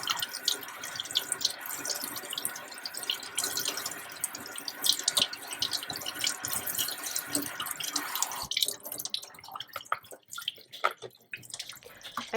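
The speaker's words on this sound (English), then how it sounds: "by rinsing this in cool water, it allows the horseradish leaves to stop cooking" Cool tap water running over horseradish leaves being rinsed in a kitchen sink, a steady faint splashing stream that cuts off partway, followed by quiet drips and handling sounds.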